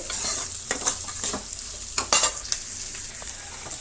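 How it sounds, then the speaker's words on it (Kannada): Onions frying in a pan with mustard seeds and curry leaves, a steady close sizzle punctuated by scraping stirs, with no talking. "ಈರುಳ್ಳಿ ಇಷ್ಟು ಫ್ರೈ ಆದರೆ ಸಾಕು, ಅರ್ಧಂಬರ್ಧ ಫ್ರೈ ಆಗಬೇಕು, ತುಂಬಾ ಫ್ರೈ ಆಗೋಂಗಿಲ್ಲ."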